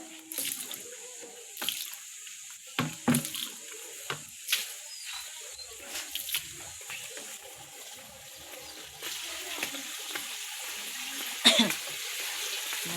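Water runs from a tap into a container, a quiet, steady trickle broken by scattered knocks and clunks of handling. Faint background noise sits beneath it and there is no clear talk.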